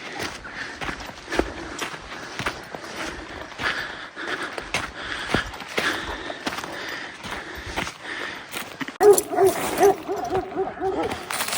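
A dog whimpers and yips in a video game amid scuffling footsteps and game sound effects, with a brief louder burst near the end.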